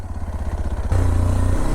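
A Kawasaki KLX 230 dual-sport motorcycle rides off road on a rough track, its single-cylinder engine thrumming steadily up close, with the tone and loudness stepping up partway through as the throttle opens.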